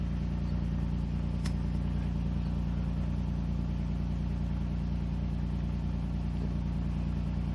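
A 2006 Chevy Equinox with a newly fitted motor idles steadily, a constant low rumbling drone with no revving, close to the microphone and alone.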